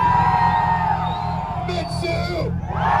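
A crowd whooping and yelling at a car rev battle meet, cheering for a Nissan, loud and close, layered over a steady low engine drone, with a voice shouting among them.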